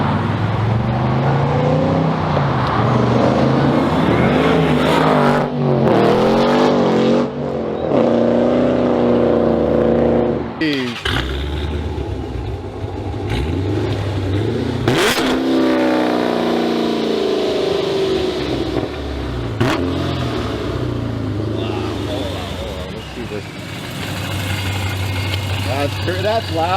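A Dodge Challenger with a ProCharger supercharger making about 900 horsepower roars and revs hard, its loud engine rising and falling with whining boost through repeated throttle blips, alongside people talking nearby.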